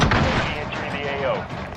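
Hip-fired shots from an FR 5.56 rifle in a first-person shooter game ring out in a dense burst over continuous battle noise, loud and close, with no clear talking.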